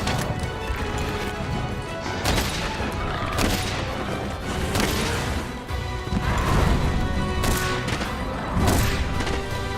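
Pierce ammo fires repeatedly from a bowgun in Monster Hunter World, sharp cracking blasts and impacts recurring every second or two over loud, dense battle noise against a ground-bound wyvern.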